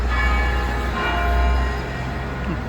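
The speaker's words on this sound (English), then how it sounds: "You can hear the bells." Church bells in downtown Kaiserslautern, Germany, ring steadily with layered, sustained metallic tones over a low rumbling background.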